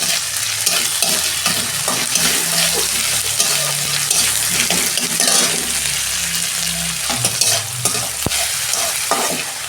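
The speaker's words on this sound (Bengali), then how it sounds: "পেঁয়াজটা ভাজা হয়ে গেছে, আমি অল্প আদা রসুনের পেস্ট দিচ্ছি।" Ginger garlic paste frying in oil with already fried onions for a tilapia fish curry, a steady loud sizzle with scraping stir strokes and occasional spatula knocks, no talking.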